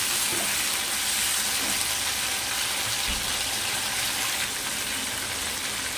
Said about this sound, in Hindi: हम गोभी डाल देंगे और उसे हम अच्छी तरह से गोल्डन होने तक फ्राई कर लेंगे।